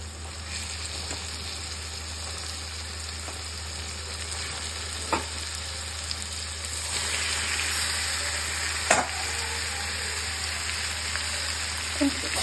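Chicken fries in a wok (kadai), a continuous dense sizzle with occasional soft stirring scrapes and clicks, close and steady from start to finish.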